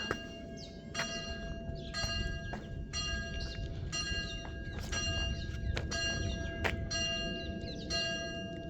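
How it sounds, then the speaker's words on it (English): Church bells ringing noon in Capernaum in a slow, steady series of strikes, each tone lingering over a busy outdoor background. "can you hear the bells? 12 o'clock."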